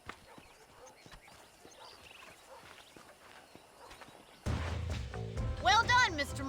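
Horses being broken in within the Red Dead Redemption game: soft, steady clip-clopping hooves at a distance, then a louder burst with a sharp neighing whinny near the end.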